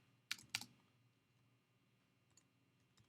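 A computer keyboard gives a quick pair of soft key clicks, then a few faint scattered taps in a quiet room.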